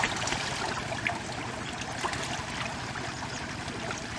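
Stream water flows steadily at a forest brook where fish are caught by hand and cast nets are thrown, a close, continuous rushing and trickling wash with small splashy peaks and no talk.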